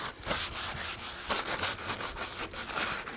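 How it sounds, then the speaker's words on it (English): A rag rubs grease off the painted surface of a Yoder smoker with solvent remover, giving close, rhythmic scrubbing strokes in quick repeated passes, with no talking. "Let's just wipe it really good."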